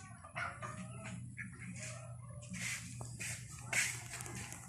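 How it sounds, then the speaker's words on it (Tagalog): Chickens cluck in a rural backyard in short, soft, scattered bursts, with a rooster-like call among them over a faint low hum. "Ayan ang mga buhay na buhay ng mga manok ko."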